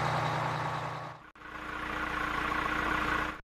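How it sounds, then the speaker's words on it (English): Bus engine idling in a toddler's transport-learning game, a steady low mid-pitched rumble that cuts briefly, resumes, then stops abruptly, with no talk. "Bus, bus."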